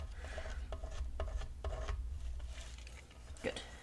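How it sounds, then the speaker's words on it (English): A fingernail scrapes excess glue along the edge of a paper pillow box in several short, quiet rasping strokes, with a soft, close bump near the end. "Just running my fingers along the edge with a fingernail to get that extra glue, and I can just scrape that right off."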